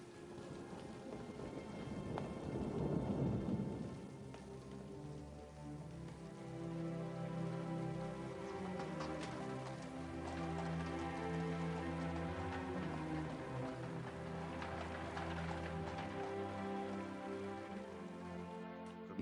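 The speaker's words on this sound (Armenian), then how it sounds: "Ինչ անձրև է գալիս։" Steady rain falls over a dense, continuous wash, with a heavier rumbling swell near the start that could be thunder, and the rain goes on without pause to the end.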